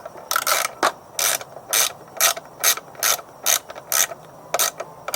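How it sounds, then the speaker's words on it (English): A ratchet turning small plenum bolts on a 2002 Ford F-250, a close, crisp clicking that comes in short, rhythmic bursts, each pull a quick run of pawl ticks. "I like to hold it right here on the head of the ratchet"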